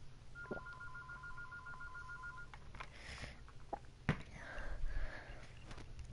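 A phone rings with a brief electronic trill near the start, followed by sniffs, small handling knocks and soft rustling close by, fairly quiet overall.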